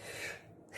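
A single human sneeze: a faint breathy intake followed by a sharp sudden burst right at the end, close to the microphone.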